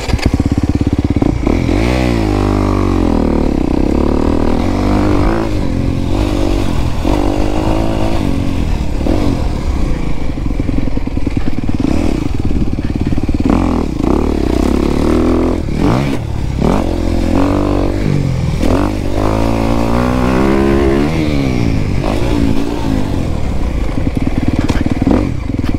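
A dirt motorcycle on a dusty valley trail revs high in third gear, the engine note climbing and falling loudly up close with rattles, scrapes and thumps from the ride mixed in.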